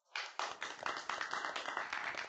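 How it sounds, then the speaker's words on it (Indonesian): A small group claps, a quick run of fairly close handclaps that starts abruptly and carries on steadily without cheering. "Tepuk tangan dan dorongan."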